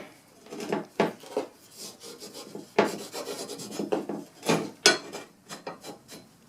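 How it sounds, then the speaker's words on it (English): Filing burrs off a lawnmower blade edge, a series of irregular raspy metal strokes, close and fairly loud, some short and some drawn out, with no talking. "Get the burrs off nonetheless."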